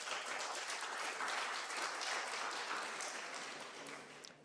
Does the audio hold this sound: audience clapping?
yes